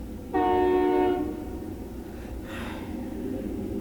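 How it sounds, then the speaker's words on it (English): A train horn gives one loud, steady blast of just under a second, rising over a continuous low rail rumble that carries on after the horn stops. "Train."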